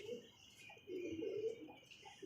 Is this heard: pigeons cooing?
yes